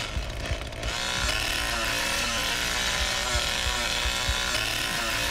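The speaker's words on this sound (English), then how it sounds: "Chainsaw still works even though I stalled it." A chainsaw engine in The Texas Chain Saw Massacre video game revs up after a brief stutter and then runs at a steady, loud buzzing drone without letting up.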